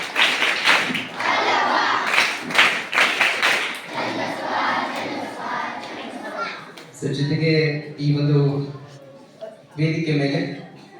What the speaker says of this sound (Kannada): ಅವರು ಕೂಡ ಈ ಸಂದರ್ಭದಲ್ಲಿ ಅಭಿನಂದಿಸ್ತಾ ಇದ್ದಾರೆ ನಿಮ್ಮೆಲ್ಲರ ಚಪ್ಪಾಳೆ ಮೂಲಕ